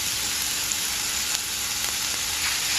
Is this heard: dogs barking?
no